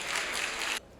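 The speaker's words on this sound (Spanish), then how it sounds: "Un aplauso para ella." Audience applause at a business luncheon of the American Chamber of Commerce of the Dominican Republic, loud, dense and steady for nearly a second before cutting off abruptly into quiet.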